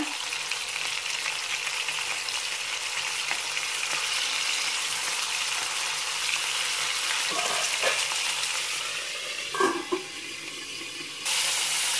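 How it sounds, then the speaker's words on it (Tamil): Dried fish fries in oil in a kadai with a constant close sizzle, broken near the end by a few brief clinks and shuffles before the hiss resumes. "முதல்ல கருவாடை பொறிச்சு எடுத்துக்கலாம்"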